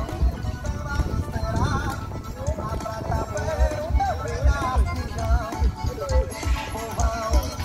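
At a vaquejada at Parque Boa Esperança in Custódia, Pernambuco, Brazil, horses gallop after a bull with rapid, rhythmic hoofbeats on dirt. An announcer talks over the pounding hooves.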